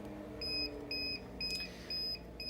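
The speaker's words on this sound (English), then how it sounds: "this will illuminate, blink, it'll also beep. You can hear the audible beep as well." Repeated electronic beeps from the alarm on a Prius Rhythm multi mattress system control panel, four short even tones at a steady rhythm over a low hum, fairly close and moderately loud.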